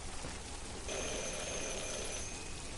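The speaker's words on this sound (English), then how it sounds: "Ring the doorbell." A doorbell in the video game Detroit: Become Human gives a bright electronic chime for about a second and a half over a constant background hiss of rain.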